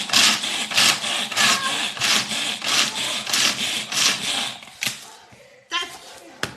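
Rhythmic, repeated chopping of ingredients for brookie cereal bars, a steady series of loud close strokes that thin out toward the end, followed by a few isolated knocks.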